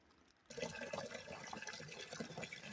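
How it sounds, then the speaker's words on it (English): Water and rock poured into a plain 5-gallon bucket without a handle, a sudden onset of steady splashing and gushing that continues close and full for the rest of the clip, with no talking. "I'm going to put the rock and water in a normal bucket without the handle"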